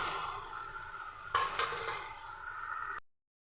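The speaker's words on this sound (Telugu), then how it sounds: "సో నెక్స్ట్ వచ్చేసి బాగా ఫ్రై చేసి పెట్టుకున్న చికెన్ ముక్కలు ఇందులో వేసేసుకుందాం" Pieces of fried chicken are dropped into a hot pan and stirred, giving a continuous sizzle with a couple of brief clattering scrapes partway through and no talking.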